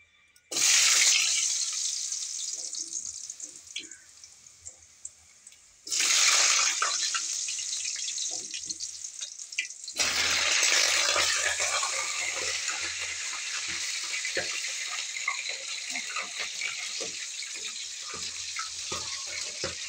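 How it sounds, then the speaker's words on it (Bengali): Potatoes dropped into hot frying oil set off a loud, steady sizzle that flares at the start, dies down, then surges twice more and keeps hissing throughout without talk. "এবার আলুটা ছেড়ে দেব"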